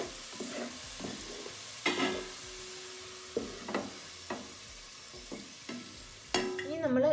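Golden-brown onions fry in oil for a Kerala-style vegetable biryani, giving a steady sizzle while a spoon stirs and scoops through the pan with scraping knocks at irregular intervals.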